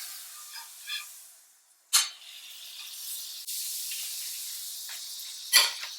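Butter sizzling in a hot skillet that has just cooked an egg, with a steady hiss broken by sharp spitting bursts, close and fairly loud, and no voices.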